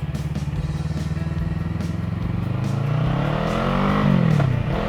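An FKM Falcon X400 motorcycle with ABS brakes accelerates close by for a braking test, its engine note climbing steadily through the gears in a loud, buzzing rev before easing off at the end.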